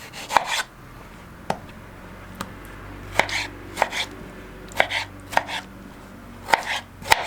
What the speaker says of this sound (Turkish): Şimdi soyduğumuz domatesimizi bu şekilde doğrayalım.